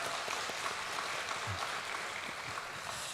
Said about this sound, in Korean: 하나님께 감사와 영광의 박수 올려드리도록 하겠습니다